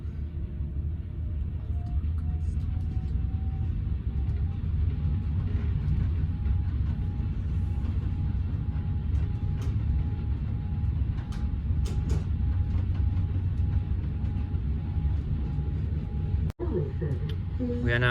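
A train pulls away from Parsons Street station with a steady, loud rolling rumble that carries on without a break, and a brief sharp knock comes near the end.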